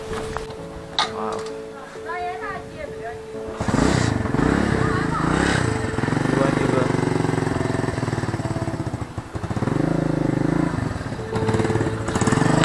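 A motorcycle ride near Jalori Pass: the engine starts up loudly and runs close with a throbbing, fluctuating rumble, after a voice speaks briefly at the start.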